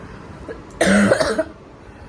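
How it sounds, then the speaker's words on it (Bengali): A single loud, harsh cough bursts out close by for about half a second, followed by quiet room tone. "আমার খুব কাশি হচ্ছে"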